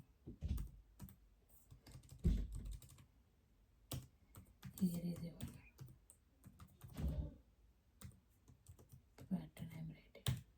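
Java code is typed on a computer keyboard in irregular bursts of close, crisp key clicks, separated by brief quiet pauses, with a voice speaking briefly in between.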